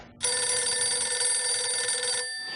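A telephone in a video game rings with a bright, sustained metallic bell trill that starts abruptly, holds steady and close for about two seconds, then cuts off, leaving faint background hum.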